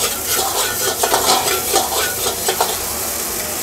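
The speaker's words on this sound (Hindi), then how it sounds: "तेल जब अच्छे से गर्म हो जाए तो हम इसमें फेटे हुए अंडे डाल देंगे" About two beaten eggs frying in hot oil in a pan, loud dense close sizzling with light spatula stirring throughout.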